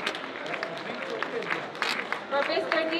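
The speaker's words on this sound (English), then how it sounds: "Ladies and gentlemen, please give a round of applause" A crowd at an awards ceremony applauds for Mr. Dito Abraham, scattered clapping that builds and grows fuller toward the end, with some faint voices mixed in.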